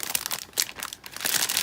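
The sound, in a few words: crinkling of planner note paper packaging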